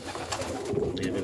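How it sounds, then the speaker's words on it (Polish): A homing pigeon in a pigeon loft gives a brief, soft, low coo, close by and faint, over quiet background rustling. "To jest potężny gołąb."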